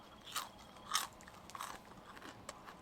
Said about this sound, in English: Ooh, those parts are crunchy. Those are burnt.